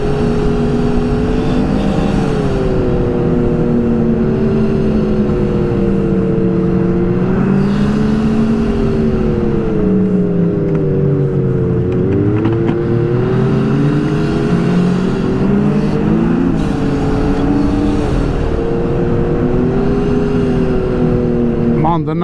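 A 900 turbo snowmobile engine roars loudly and continuously along a freshly groomed trail, its pitch rising and falling in repeated waves as the throttle is worked.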